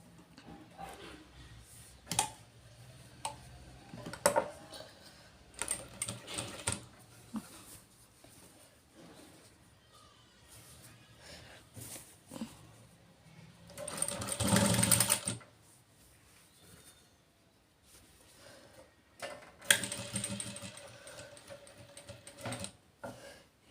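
Domestic sewing machine stitching piping onto a blouse, heard in short intermittent bursts of motor whir with quiet pauses and handling clicks between runs, one longer run mid-way.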